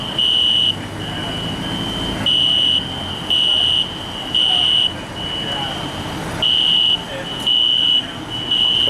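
Indoors, a building fire alarm keeps repeating loud, high-pitched buzzing pulses in a steady rhythm, with faint traffic-like rumble and room noise underneath.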